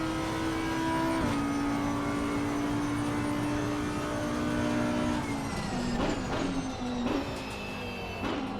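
Race car from Assetto Corsa Competizione lapping Monza, a steady high engine drone with rising and falling pitch through gear changes and several sharp shifts near the end, continuous and close throughout.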